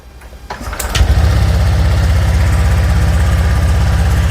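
A Honda Vario 125/150 scooter engine cranks and catches about a second in, then settles into a steady, loud idle with an even, rapid putter that continues to the end.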